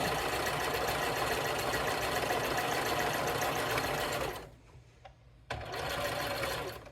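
A sewing machine stitches in a steady, fast mechanical whir at close range, breaks off briefly into near silence, then starts running again.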